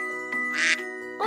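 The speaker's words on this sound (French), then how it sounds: "En effet, Twinkle, un adorable canard." A cartoon duck quacks in a single short nasal burst, close and clear over a soft musical backing in a children's learning program.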